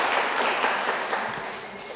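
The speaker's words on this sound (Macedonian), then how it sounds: "Аплауз за нив." An audience at a school quiz on rational energy use applauds, a dense, even wash of many hands clapping that carries on steadily without a break.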